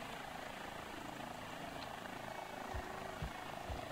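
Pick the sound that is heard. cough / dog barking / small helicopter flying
small helicopter flying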